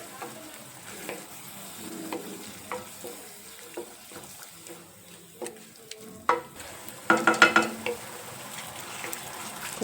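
Ingredients for tomato rice fry in oil in a pan. A soft, low sizzle is punctuated by scattered stirring clicks, and a brief cluster of louder metallic clatter comes near the end.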